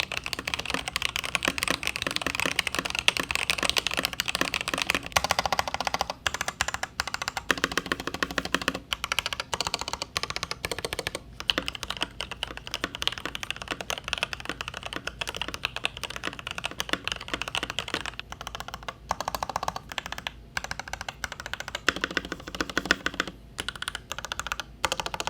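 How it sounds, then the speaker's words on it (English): Continuous, close typing on an Iqunix L80 Cosmic Traveller mechanical keyboard, comparing lubed and filmed Alpaca switches with factory TTC Gold Pink switches: dense clacking keystrokes with short pauses between bursts, with no voices. "Let's roll a full sound test and comparison between alpacas and TTC Gold Pinks."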